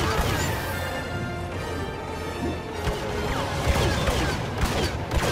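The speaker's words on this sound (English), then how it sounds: "There's a sniper! I heard him." Sniper rifle fire in a Star Wars Battlefront match, with sharp cracks, crashing impacts and heavy gunfire over a constant battle din, loud and close throughout.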